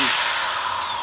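A power drill whirs steadily at low speed on a plastic 2-liter bottle, a high continuous whine filling the short clip with no voices.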